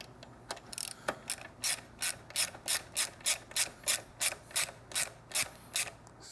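Ratchet wrench with a 12mm socket snugging a nut on a Triumph motorcycle's Predator carbon slip-on exhaust: a steady run of about fifteen evenly spaced ratcheting clicks, close and crisp, with no talk.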